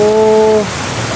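Steady rain hisses loudly and close, filling a bucket, with a brief tonal hum that fades out partway through.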